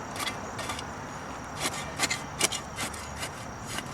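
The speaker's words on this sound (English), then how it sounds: "I'm just going to put about an inch over the area" Compost is scraped and rubbed into depleted garden soil in a series of short, gritty strokes, some quick and paired, others isolated, fairly close but soft, with no talking.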